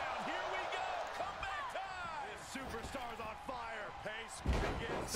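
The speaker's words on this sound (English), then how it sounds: "Slams LeRae down." A heavy body slam lands in the wrestling video game WWE 2K23, a sharp thump under dense speech and background game sound, followed by a louder low impact near the end.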